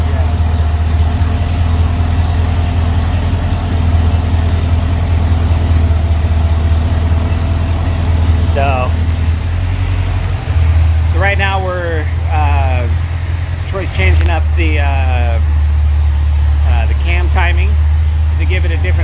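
A Corvette Z06 with a lopey cam idles on a dyno, a loud, steady low rumble with an uneven, choppy pulse throughout. Someone speaks over it in the second half.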